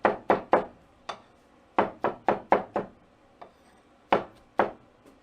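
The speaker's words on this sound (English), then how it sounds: "So chop right up with it." A blade chops through a smoked pork shank on a board, about a dozen sharp knocks arriving in quick bursts with short pauses between, close and clear with no talk.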